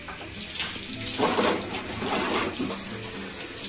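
Steady splashing rush of water running from a tap, close by and continuous, with no talking.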